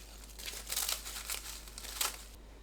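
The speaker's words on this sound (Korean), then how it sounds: "김을 자릅니다." Dried gopchang gim laver sheets being snipped into roughly 2 cm squares, giving a close, faint crinkling and crackling in several short bursts, with no voices.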